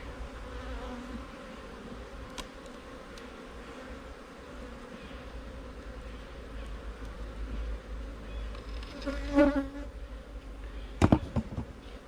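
Honeybees buzz around an open hive, a steady droning hum with a few louder passes near the end and some clicks and knocks.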